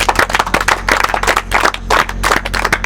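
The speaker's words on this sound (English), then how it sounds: "I think we should also have another round of applause for our drivers." A solar car race team claps for its drivers at an Outback camp in Australia, a dense, steady round of many hands clapping together for about three seconds, close and lively, with no one speaking over it.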